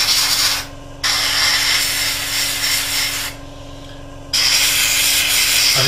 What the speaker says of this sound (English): the mess we're making while spraying the white